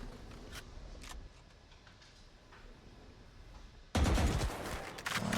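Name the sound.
gunfire exchange in Valorant match, from a video game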